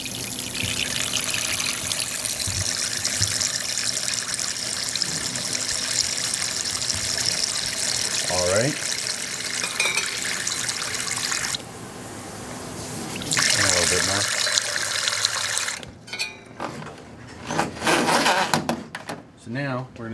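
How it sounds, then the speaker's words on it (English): Water trickles and pours into the canister of a water ice machine from its built-in hose, a steady running-liquid wash under close, ongoing talk, with clattering handling noises toward the end. "we want to fill this up a little bit till the water comes to about right where that crease is there"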